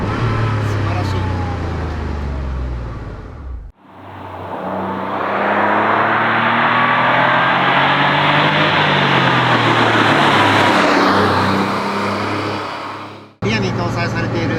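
A Porsche 911 Speedster design study prototype with a rear-mounted air-cooled 3.2-litre SOHC flat-six drives on a winding road, its engine note loud and sustained through the middle, with someone talking before and after.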